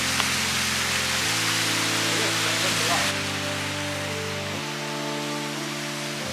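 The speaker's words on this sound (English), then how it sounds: "We can hear the waterfall" A waterfall in South Africa roars nearby as a broad, continuous rushing wash that holds steady, with some faint tonal background underneath and no clear talk.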